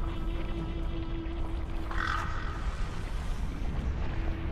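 A crow in the video game Neverwinter caws once midway through, clear over a steady, dense bed of game ambience.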